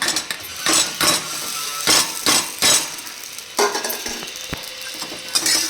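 A spoon scrapes and clinks against a pan while sabudana khichdi, cooked with peanut oil and fried potato chips, is mixed, with about a dozen rhythmic strokes over a soft sizzle, close and clear with no talking.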